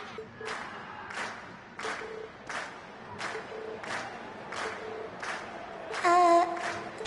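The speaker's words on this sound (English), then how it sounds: "we've heard your cheers loud and clear" Crowd cheering and clapping in the Trails of Cold Steel video game after Class 7's performance, heard as a sustained wash of noise with repeated regular swells and a brief tonal sound near the end.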